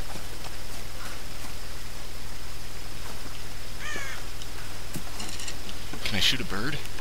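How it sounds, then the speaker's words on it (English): Crow-like caws from a bird in the Tomb Raider video game, a few short harsh calls heard over a steady game ambience with a voice talking. "Can I shoot a bird?"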